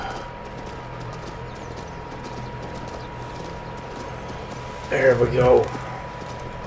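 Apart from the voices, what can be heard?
horse hooves in video game King's Bounty 2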